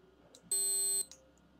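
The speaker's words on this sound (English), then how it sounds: "That was my watch beeping, not me." A wristwatch gives one loud, steady electronic beep lasting about half a second, heard alone in a quiet room.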